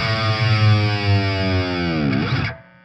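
Heavily distorted electric guitar sustains a note while the whammy bar is pushed down, the pitch sliding steeply downward before cutting out near the end, loud and alone.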